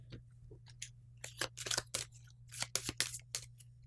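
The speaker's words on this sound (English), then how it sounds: "We will shuffle up their cards into a new order" Playing cards for the Imperius board game are shuffled by hand in quick, crisp riffling bursts, faint and close, set against a low steady hum.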